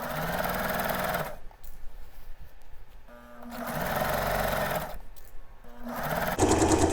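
Sewing machine stitching the seam of a suit jacket sleeve in several short runs separated by quiet pauses, its motor hum close and moderately loud.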